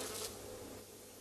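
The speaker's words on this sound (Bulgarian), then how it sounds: "точно в този момент влетели цял рояк мухи" A whole swarm of flies buzzing in a steady, faint, hissy drone that swells briefly near the start, heard alone without voices.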